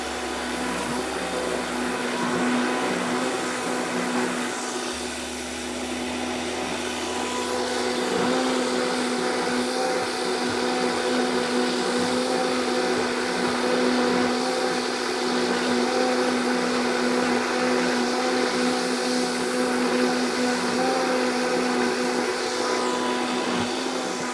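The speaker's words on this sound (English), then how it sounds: "Blend it up." A Vitamix blender purees spicy tomato sauce, a loud, steady motor whir with a churning roar that runs unbroken for about 24 seconds, no voices.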